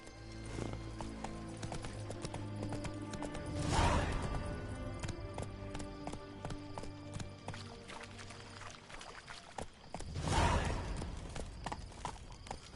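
Roach the horse galloping in The Witcher 3: Wild Hunt, a steady run of hoofbeats with two louder swells, and a snort or whinny near each swell.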